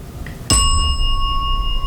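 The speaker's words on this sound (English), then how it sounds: "the bell just went off" A single bright bell chime rings out sharply and then sustains, its clear tone lingering steadily, preceded by a faint soft tick.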